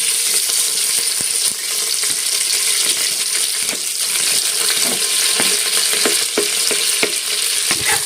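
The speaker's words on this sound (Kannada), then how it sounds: "ಇವಾಗ ಈರುಳ್ಳಿ ಮತ್ತೆ ಮೆಣಸಿನ್ಕಾಯಿ ಹಾಕೊಂತ ಇದ್ದೀನಿ" Onion and green chilli fry in a pan with a steady, loud hiss of hot oil, broken by small crackles and occasional clinks of a spatula against the pan.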